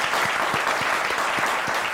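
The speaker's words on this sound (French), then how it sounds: "on l'applaudit, non?" A television studio audience claps to welcome a guest, a short burst of brisk, close applause from a modest crowd.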